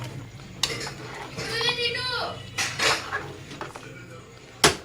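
A spoon scrapes and clinks against a pan while vegetable curry with grated coconut is stirred, giving a few sharp metallic knocks and gritty scraping, with faint voices in the background.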